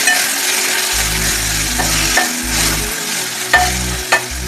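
Soaked Byadgi and Guntur red chillies frying in a pan, a soft sizzle with spatula clinks and scrapes over an intermittent low rumbling hum, no talking.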